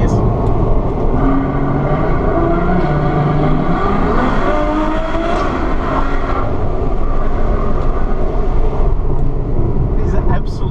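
A Ferrari FF's engine droning steadily from inside the cabin while driving on a mountain pass road, a continuous loud rumble with some rising tone, and a voice talking over parts of it.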